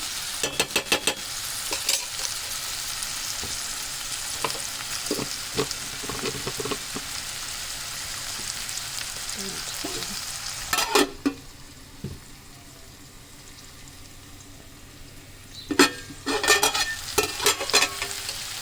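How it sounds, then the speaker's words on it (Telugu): Shredded cabbage curry with turmeric frying in oil: a continuous close sizzle with bursts of clattering spoon stirring and scraping against the pan, growing briefly quieter midway before the stirring picks up again. "నూనెలో కొంచెం ఫ్రై అవ్వాలండి."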